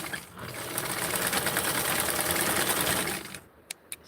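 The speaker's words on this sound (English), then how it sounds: "So I sewed on it to keep it in place." Sewing machine stitching elastic onto a Barbie doll skirt, a close, steady mechanical whir that runs for about three seconds and then stops, followed by two quiet clicks.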